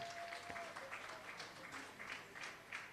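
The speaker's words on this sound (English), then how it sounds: "can we give him a round of applause?" Applause at a national convention in Abuja, a fairly faint and steady wash of clapping from the audience with no talk over it.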